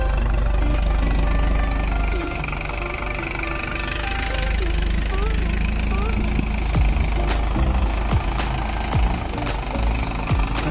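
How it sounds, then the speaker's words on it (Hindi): A tractor stuck in sand runs its engine in a continuous low, rough drone, with scattered knocks and clanks and voices faintly underneath. "ट्रैक्टर निकल नहीं रहा है, बड़ी मुश्किल हो रही है।"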